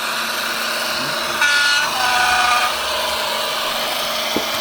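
A Bachmann BR Class 55 Deltic model diesel locomotive sounds two brief, tonal horn blasts over a steady mechanical whir and hum.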